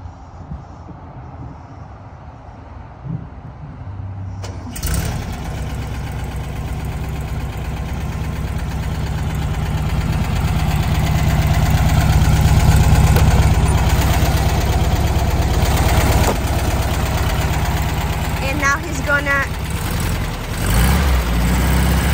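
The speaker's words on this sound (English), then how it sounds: "We are here to show the cold start for the Volkswagen Samba." Volkswagen Samba engine cold-starting after a quiet moment, then settling into a loud, steady idle that swells slightly and holds, close and continuous with no voices.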